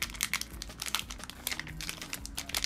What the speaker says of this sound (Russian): Сейчас откроем, что. Вот он еще упакован в таком вот пакетике.